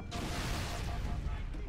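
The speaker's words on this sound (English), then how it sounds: "So that's how devastating these explosions are gonna be." Explosions in Halo: Combat Evolved on Legendary difficulty, a dense, rumbling blast that fills the whole clip with continuous low booming and crackling debris, loud and close throughout.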